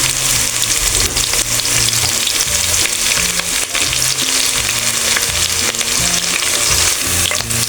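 Onions and green chilies hit hot oil in a pan for a rohu fish curry with cauliflower and potato, giving a loud, dense, continuous sizzle and crackle, close and steady throughout.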